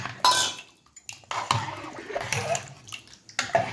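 Masala being stirred into pressure-cooked chicken curry in a pot: a few sharp metallic clanks of a ladle against the vessel, separated by quieter wet stirring.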